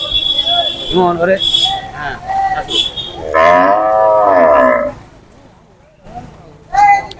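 Cattle at a crowded livestock market lowing in several long, loud moos, one after another and fairly close, with bursts of other market noise between them.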